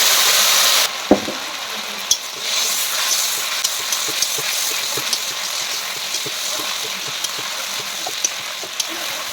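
Spice paste of dried chilli, bay leaf and ginger frying in oil for patol ghanto, a pointed gourd dish with fish head. After a brief louder opening it settles into a steady close sizzle with scattered small clicks from stirring, and no voices.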